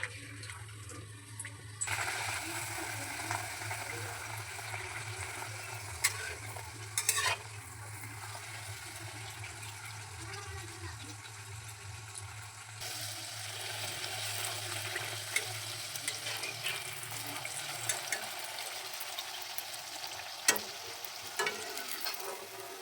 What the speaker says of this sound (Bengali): লুচি ভাজবো এবার কড়াই তেল দিয়ে দিয়েছি তেল গরম হয়ে গেছে